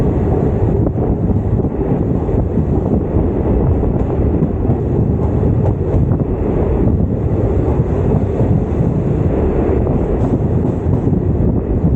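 Chemmozhi Express on the Coimbatore–Mannargudi run rumbles along at night, a loud, steady, dense roar of wheels and wind that continues unbroken for the whole stretch with no voices.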